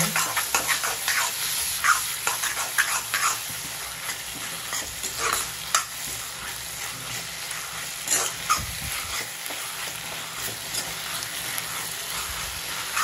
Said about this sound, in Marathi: आणि आता आपल्याला करायचे परत गॅस फास्ट आणि मस्त मिक्स करून घेऊ।